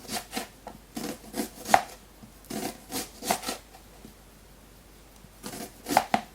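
Onion is chopped with a knife on a board in crisp, quick bursts of cuts, grouped in short runs with brief pauses between them, close and clear with no talking.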